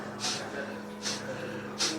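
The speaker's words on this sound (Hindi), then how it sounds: "जैसे खांसी आती है ना, जैसे नाक साफ करते हैं ना, ऐसे सांस को पूरी वेग पूर्वक छोड़ने में पूरा ध्यान देना है।" Three forceful, hissing nasal exhalations from kapalbhati yoga breathing, evenly spaced and fairly close, over a low background hum.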